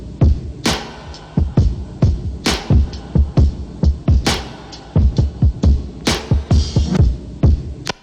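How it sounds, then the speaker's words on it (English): Hip-hop drum break layered with an extra programmed kick and snare, playing a dense, punchy looped groove with sharp snare cracks and low thumps, loud and up front with no talking. "I then layered it with my own like kick and snare."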